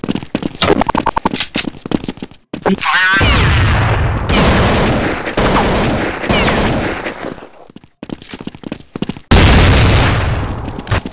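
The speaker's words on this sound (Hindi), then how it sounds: "शॉट आ गए शॉट आ गए शॉट गए" Gunfire in Counter-Strike 1.6 on Dust 2, loud rapid bursts of automatic shots and heavy sustained firing that fill the clip with a few brief pauses.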